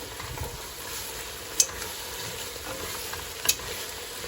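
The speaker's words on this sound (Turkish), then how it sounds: "haşlamış olduğumuz nohutlarımızı, haşlamış olduğumuz aşurelik buğdayımızı ilave edip karıştırıyoruz" Boiled chickpeas and boiled aşure wheat are stirred into a pot of yogurt-based ayran aşı soup, giving a faint, steady wet churning with two brief spoon clicks against the pot.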